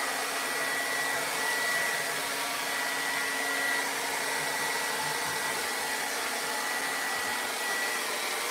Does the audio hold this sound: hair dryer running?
yes